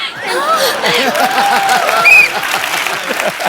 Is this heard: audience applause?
yes